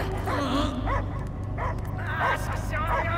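Dog barks and yips in the Marvel's Guardians of the Galaxy video game, a few short bursts over a low droning game soundtrack.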